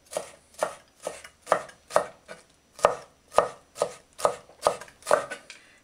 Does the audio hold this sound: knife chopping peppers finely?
yes